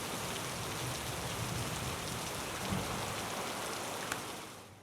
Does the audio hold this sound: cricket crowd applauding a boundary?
no